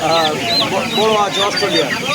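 Chickens cluck and squawk in a busy outdoor hen market near Kolkata, a dense overlapping chorus close by with voices talking underneath throughout.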